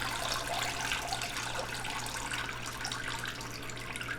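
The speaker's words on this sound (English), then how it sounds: "I just kind of shove it into the water a few times" Whole head of iceberg lettuce plunged repeatedly into a basin of water to wash it, giving a soft, steady sloshing and splashing that stays fairly quiet and even throughout.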